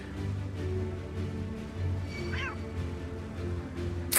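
A single short cat meow from Final Fantasy XIV sounds briefly over a steady low game soundtrack drone.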